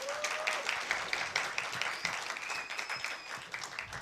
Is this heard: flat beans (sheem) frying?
no